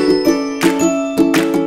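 Bright chiming notification bell effect, a quick jingle struck about three times in a row at a steady pace, loud and clear with no talking.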